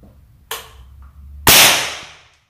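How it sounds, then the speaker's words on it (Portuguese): A Rossi M16-R air rifle is dry-fired: a small click of the mechanism, then a sharp, loud crack that rings and decays over about a second, close and alone. "Vou fazer um disparo seco aqui."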